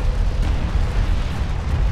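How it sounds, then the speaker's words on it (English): Explosions and weapon fire hit an armored vehicle in the real-time strategy game Homeworld: Deserts of Kharak, forming a dense, continuous low rumble of blasts with no speech. "Armored vehicle is taking fire."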